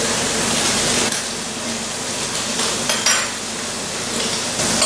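Butter sizzling in a hot pan produces a steady, close frying hiss with faint clinks of cookware, and no voices.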